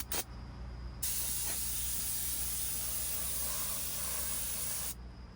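Compressed air blasts from an air blow gun aimed inside a car, a loud steady hiss lasting about four seconds after a couple of brief short bursts, close to the microphone.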